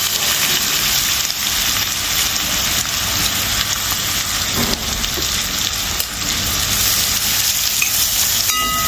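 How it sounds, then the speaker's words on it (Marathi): Chopped onion sautés in hot oil with asafoetida and bay leaf for a vegetable korma, producing a loud, constant close-up sizzle with occasional faint stirring clicks. "हा चिरून घेतलेला कांदा छान परतून घ्या."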